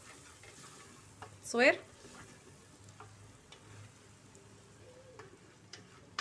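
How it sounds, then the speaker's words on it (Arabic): Spices frying in a pot for a bean and kordas stew are stirred, with one loud scraping sweep of the spoon over a continuous sizzle and a few light taps, and brief faint speech. "دابا نحركم مزيان هاد العطريه ديالنا"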